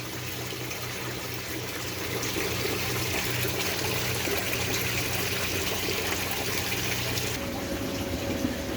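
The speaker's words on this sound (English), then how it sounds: "So let's see if it'll drain well." Water runs continuously through a newly installed drain line, a steady rushing and trickling that grows slightly louder after the first couple of seconds and holds at a constant level.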